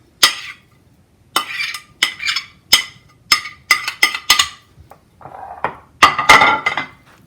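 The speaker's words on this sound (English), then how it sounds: "And I'll stir it in nicely." Stirring grated carrot into a bread puff mixture in a bowl: a spoon scraping and clinking against the bowl in irregular close bursts with brief gaps, loud and alone without talk.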